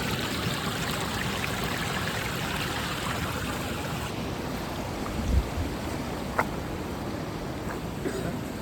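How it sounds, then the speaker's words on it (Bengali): A hillside stream at Kalo Pahar pours down like a little waterfall, its continuous close rushing hiss steady throughout, broken only by a couple of brief low knocks near the end. "ঝর্ণার মতো পানি"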